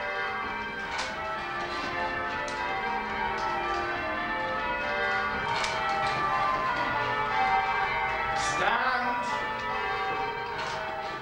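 Painswick church bells ringing in an English village tower, several bells struck in a steady repeating change pattern, clear and resonant at moderate distance, with no voices.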